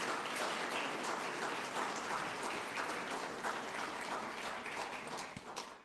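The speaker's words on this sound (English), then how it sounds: "a big round of applause to all of you" A Unitarian Universalist congregation applauds together at a service, a sustained, fairly distant round of clapping that thins and tapers off toward the end.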